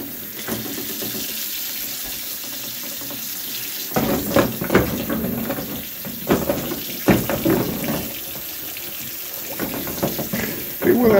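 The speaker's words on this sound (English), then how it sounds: "go ahead and turn the water off" Water runs from a kitchen sink tap into a basin with wine bottles in it, a steady close rush that surges and splashes in bursts while a person talks over it.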